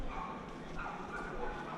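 Small dog on a cobbled street in Zaragoza at night, barking and yipping in a steady run of short sounds just a few steps away, over low city noise while someone talks quietly.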